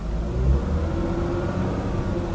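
The hybrid drivetrain of a 2014 Lexus GS450 Hybrid F Sport buzzes and hums steadily in park in Sport Plus mode, a low continuous drone heard up close without voices.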